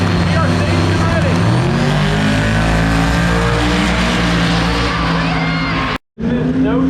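A drag racing car launches hard down the strip with a loud, close engine roar that climbs steadily in pitch, a voice talking over it, then cuts off abruptly near the end.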